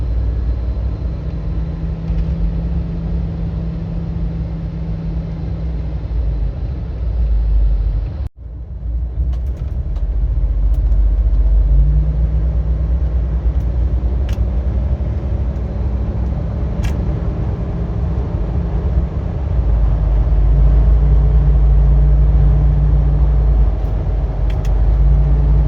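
A Hummer H2 on 37-inch Toyo tires pulls away from a red light on light throttle, heard from inside. A steady low engine and road rumble builds, with a brief dip at a gear shift and a drone rising again after it.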